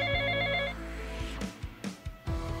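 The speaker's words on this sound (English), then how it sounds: "your phone keep ringing" A telephone rings with a steady electronic tone for under a second, then stops, leaving faint room noise and a few soft knocks.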